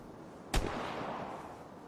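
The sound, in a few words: gunfire, from a video game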